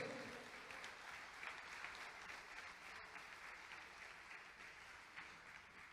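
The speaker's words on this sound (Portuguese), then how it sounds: "Pode aplaudir." A church congregation claps together at a worship service, steady, dense applause that holds at an even level from start to finish with no talk over it.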